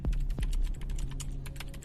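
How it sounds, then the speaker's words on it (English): Fingers type steadily on a computer keyboard, a quick patter of close clicks over a low hum in the room, with no one speaking. "just address your keyboard and take notes"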